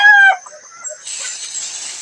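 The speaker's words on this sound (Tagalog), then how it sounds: "yung iba ko yung mga manok mga kaidol kasi naghanap silang pagkain" A chicken on a farm, out searching for food, lets out a single short, high call up close, followed by a soft hiss of background noise.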